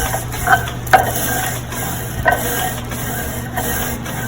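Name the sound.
grinding roasted cocoa by hand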